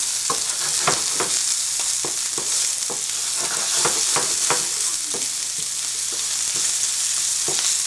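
Onions frying in a pan give a bright, steady sizzle close by, punctuated by a series of sharp crackles and spatula taps throughout, with no talking.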